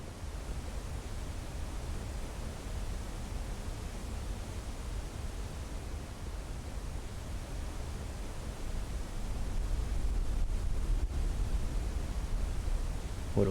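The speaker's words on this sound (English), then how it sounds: "Waterfall loud." Loud, steady waterfall roar in the Blue Prince video game, a dense broadband wash that holds constant and swells slightly louder near the end, with no voices.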